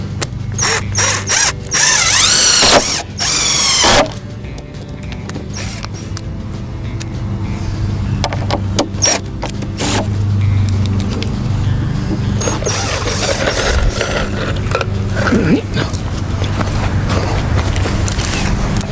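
A power driver or drill sends a screw into a board for a raised garden bed built on a slope, whirring in a few loud bursts early on, followed by steady outdoor mechanical noise.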